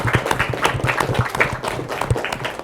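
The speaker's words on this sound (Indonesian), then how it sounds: "Saya boleh minta tepuk tangannya." An audience claps at a Ramadan health talk, a short burst of fairly close, brisk applause with distinct individual claps.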